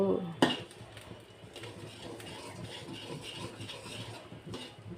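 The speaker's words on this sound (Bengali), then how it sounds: "এখন সরিষা বাটা দিয়ে আমি একটু কষিয়ে নিলাম" Mustard paste for a raw mango pickle is stirred and fried in oil with a pan scrape and clink at the start. A soft sizzle and stirring noise follows, quiet and close.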